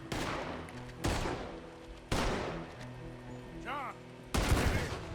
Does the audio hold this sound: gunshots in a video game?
yes